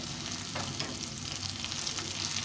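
Vegetables frying in a pan with a pinch of chili powder for a vegetable khichuri, a steady close sizzle with stirring scrapes and a few brief clatters, continuous and without speech.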